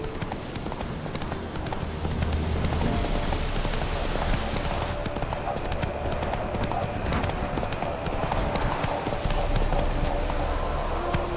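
The horse Roach gallops in The Witcher 3: Wild Hunt, a steady rapid clip-clop of hooves close up under a dense wash of wind or rain-like noise, continuous throughout with no pauses.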